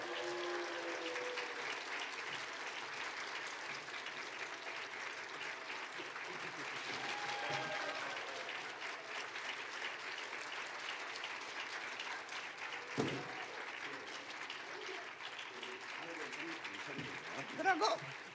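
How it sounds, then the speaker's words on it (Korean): A church congregation at a special Friday service applauds in welcome of a guest, steady sustained applause over about eighteen seconds, fairly distant and quiet, with faint voices mixed in. "박수로 맞이해 주세요."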